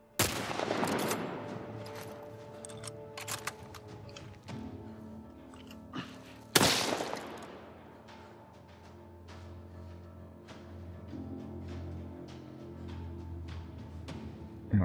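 Gunfire in The Last of Us Part 1, scattered shots and bursts of varying loudness over game ambience, with one sharp loud blast partway through and quieter pops continuing afterward.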